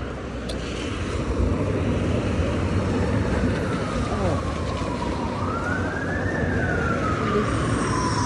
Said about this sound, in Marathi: सायरन